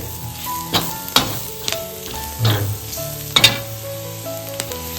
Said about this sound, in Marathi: इथे कांदा लाल तिखट आणि हळद आपण घालून फोडणी द्यायला घेतले